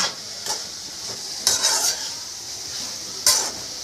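A spoon stirring spices, ginger garlic paste and coriander powder through a pan of cluster beans, giving a soft sizzle broken by three or four sharp scraping clinks against the metal.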